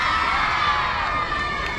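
Elementary school children cheer together at an end-of-year fifth-grade graduation celebration, a loud, sustained crowd roar of high young voices shouting in unison without pause.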